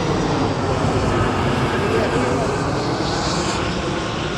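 Low-flying propeller airplane passing overhead, a loud continuous broadband roar that fills the whole stretch and fully drowns the outdoor setting, with no clear rise or fall.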